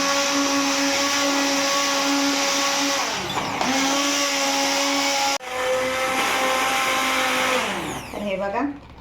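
Hand blender pureeing hot tomato soup in a pot, a loud steady motor whine that dips briefly as the blade is moved, then resumes and winds down near the end.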